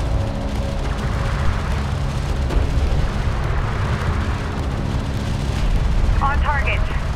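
Continuous heavy rumble of explosions and gunfire from battles in the strategy video game Homeworld: Deserts of Kharak, a dense unbroken roar with game voices over it.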